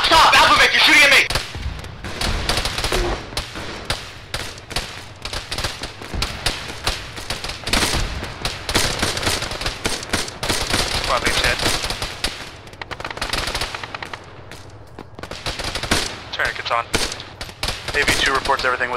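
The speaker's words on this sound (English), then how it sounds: "We're taking fire from the north as well." Rapid gunfire and machine gun bursts in a military shooter video game, dense crackling shots throughout with voices talking over the shooting.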